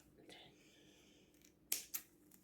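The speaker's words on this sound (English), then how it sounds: "and cut the ends off" Scissors snip the ends off a bundle of harvested rushes being shaped into a Brigid's cross, two quick crisp cuts close by, the second following the first after a brief pause.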